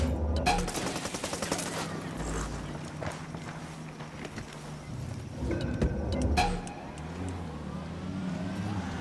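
Ghost Recon Wildlands skirmish: bursts of automatic gunfire crack out early and again midway over a low rumbling engine and a busy game soundscape, moderately loud throughout.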